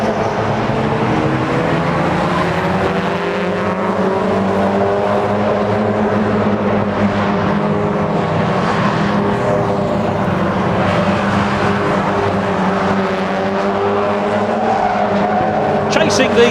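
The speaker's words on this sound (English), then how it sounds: "Chasing the 61 car of Carl Andrews down the straight." Mazda MX-5 race cars at Croft circuit during a 2014 BRSCC championship round, engines droning loudly and continuously as they chase each other down the straight, with a commentator talking over the racing throughout.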